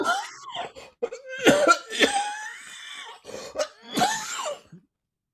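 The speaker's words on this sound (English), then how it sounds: "Just coughing up a lung." A person coughs several times in harsh, raspy bursts, with throat clearing and wheezy breaths between them, close to the microphone.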